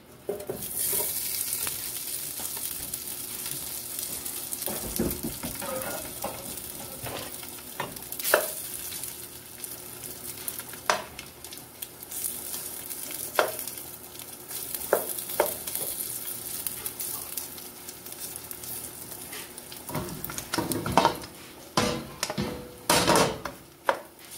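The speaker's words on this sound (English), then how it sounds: "we're going to let the sausage sear up so it can get a nice little crust and a texture" Vegan sausage sears in a pan for a jambalaya, its constant sizzle broken by irregular scrapes and knocks as it is stirred, with several louder clatters near the end and no talking.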